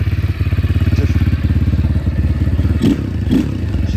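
A small 200cc motorbike-type engine idles close by with a steady, rapid putter, plus a couple of brief clunks partway through.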